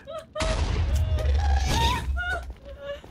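Gunfire in a video game as an enemy shoots at the players, loud bursts of shots filling the clip with heavy low-end booms, with brief voice sounds between them.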